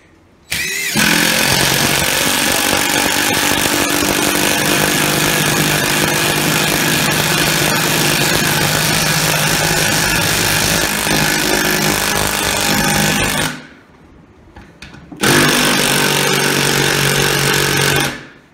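A Rockwell or DeWalt power driver runs screws in to sink the heads, a loud continuous whirring and hammering roar for about thirteen seconds, a brief quieter pause, then another short burst.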